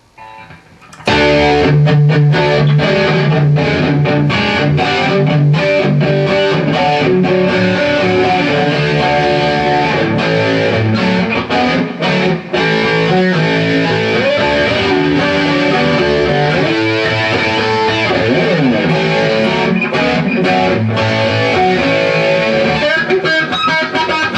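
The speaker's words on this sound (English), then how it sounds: "I'm gonna go straight to a good old, just straightforward distortion sound" Electric guitar played through a straightforward distortion sound on the bridge pickup, a loud, dense driven tone with continuous riffing and chords for over twenty seconds, no talking.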